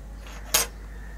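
Drumstick pods set down onto a plate in a kitchen, giving a single short clatter against the dish in an otherwise quiet moment.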